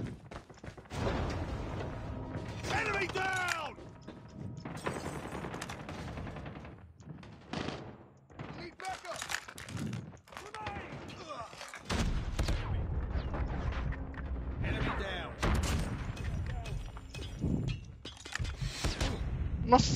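Gunfire from the HDR sniper rifle and other weapons in the mobile shooter Call of Duty Mobile, in a match. Sharp cracks and bursts repeat irregularly throughout, mixed with game sounds and bits of speech.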